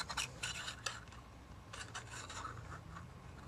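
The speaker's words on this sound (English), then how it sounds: "I'm going to take my 1/8 inch hole punch, and I'm going to punch little holes right along the fold of the two smaller flaps." Small 1/8 inch hole punch biting through folded paper along a treat bag flap, a few quick crisp clicks and rasps near the start and again midway, quiet and close with no talking.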